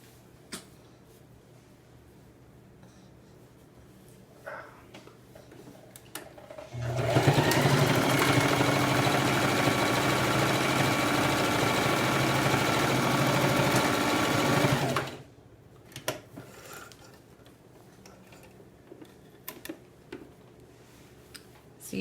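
A Singer Classic sewing machine runs steadily for about eight seconds, a loud continuous whirring hum with a fast mechanical rattle while stitching a seam, framed by quieter handling clicks before and after.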